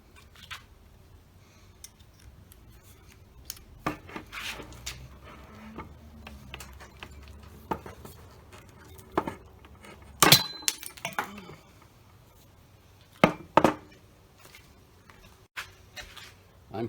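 The head being cut off a roller blind stud during a repair, with sparse, sharp snips, clicks and clinks scattered through a quiet stretch and a louder cluster of cracks midway, close by and with no talk.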